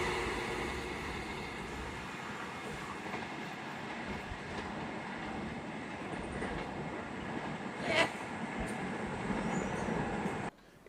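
A fast express train runs past on the rails with a steady, broad roar and rattle, holding a fairly even loudness for about ten seconds and cutting off near the end.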